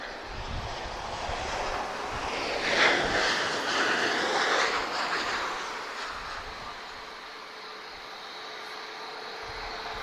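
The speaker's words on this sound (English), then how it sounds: "TAP Express is inbound, arriving from Bilbao. This is an Embraer E195 long range." A TAP Express Embraer E195 long range jet inbound from Bilbao at Lisbon Airport, its engine whine and roar rising to a peak a few seconds in, then fading steadily into the distance.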